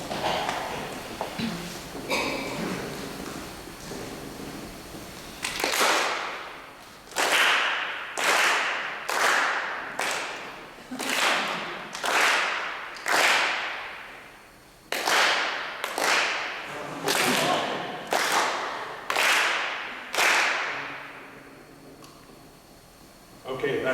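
Lecture audience claps in unison at displayed digits, sharp group bursts in a steady rhythm of about one per second, with a pause partway through, after a stretch of murmuring at the start.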